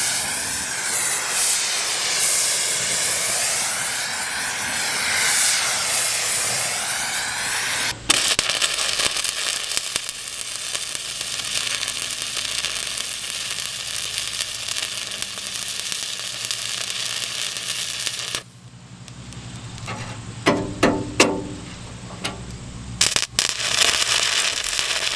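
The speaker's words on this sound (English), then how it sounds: "basically I'm going to have to do a fillet weld all the way across" Arc welding a fillet weld across the underside of a replacement blade cutting edge, giving a steady loud crackling sizzle and hiss that runs for most of the clip, then falls to quieter, broken bursts near the end.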